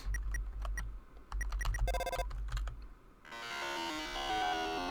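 An old-fashioned bell ringtone from a telephone in the video game Deltarune, rapid clicky rings in short bursts, then a sustained bright musical ringing tone near the end, fairly quiet.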